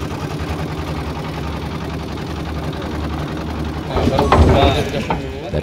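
An incinerator and a concrete mixer machine destroy seized drugs, a steady mechanical engine hum running throughout, joined near the end by louder rumbling and clattering bursts while someone talks.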